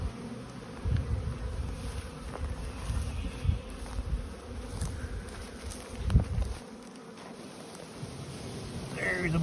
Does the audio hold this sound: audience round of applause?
no